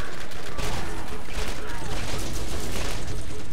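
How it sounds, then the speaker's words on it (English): Repeater gun firing in Borderlands, a dense, loud run of shots that keeps going almost without gaps from start to finish, with busy game sound underneath. "This new repeater's pretty good, but it only shoots 3 bullets at a time"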